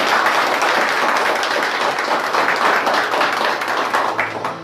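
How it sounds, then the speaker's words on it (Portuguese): Church congregation applauding during a Pentecostal-style service, a dense steady wash of many hands clapping that carries loud and unbroken throughout, with faint voices mixed in. "Diga graças a Deus por isso e aplauda o nome de Jesus."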